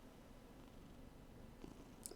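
A cat purrs softly and steadily while resting in a lap, a faint continuous rumble with a few small rustles near the end.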